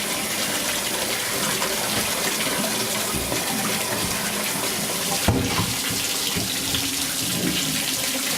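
Tap water runs steadily and fairly loud while a piece of amethyst is rinsed for a five-gallon betta fish tank, the gush shifting once partway through as the rock is moved or the container is dumped.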